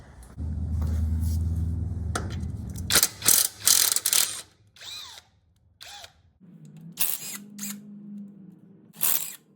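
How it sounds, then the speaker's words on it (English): Screws being backed out of the rear end housing on an EZGO golf cart with a power drill or ratchet, in several short whirring bursts and clicks up close, separated by pauses and a low steady hum. "getting the screws off"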